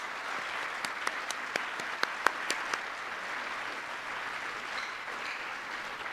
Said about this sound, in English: Roger, can you stand up if you're in the audience so we can give you a round of applause?